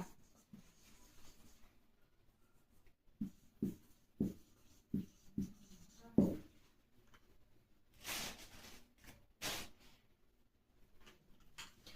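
Pen or pencil writing notes on paper, a run of short scratching strokes and taps close by, with a few louder rustles of paper later on; no talking.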